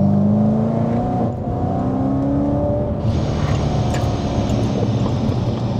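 A 680 bhp supercharged manual BMW E92 M3 as the driver lifts off the throttle, a loud, steady engine drone with a whining tone that drops slightly in pitch, then shifts to a broader rushing roar partway through.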